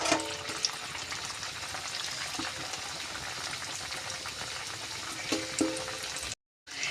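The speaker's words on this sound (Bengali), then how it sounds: "এবার আমি এগুলো সবগুলো তেলে ছেঁকে নেব" Mughlai paratha fries in hot oil in a wok, a steady, close crackling sizzle with scattered pops and faint stirring clicks, broken by a brief silence near the end.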